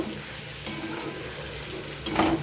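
Half a portion of poppy seeds fries in a pan for a vegetarian tomato and potato dish, with a low, steady sizzle and soft stirring scrapes that swell briefly near the end.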